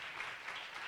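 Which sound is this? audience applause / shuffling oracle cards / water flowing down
audience applause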